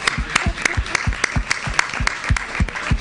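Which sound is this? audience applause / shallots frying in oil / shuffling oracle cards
audience applause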